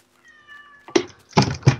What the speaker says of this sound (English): I hear a cat. That's my cat.